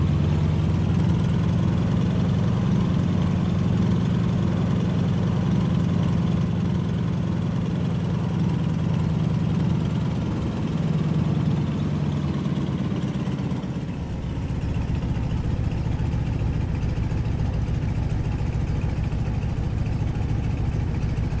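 A Stearman biplane's radial engine idles steadily in a flight game, a loud continuous low drone that holds even while taxiing, dipping briefly before settling again.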